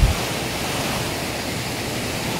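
Water gushes steadily through irrigation outlets at a control structure, a dense, even roar that stays close and constant throughout with no voices over it.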